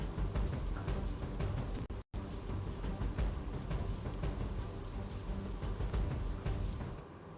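Dense, steady downpour of heavy rain in Gujarat, a constant close wash of drops with no voices, briefly cutting out for an instant.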